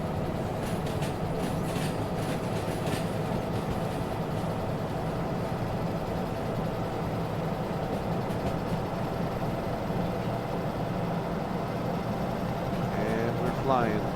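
Steady low rumble and drone of a DE2 locomotive rolling along the rails with the throttle notched up through a turn in the train game Derail Valley, continuous and even without a break.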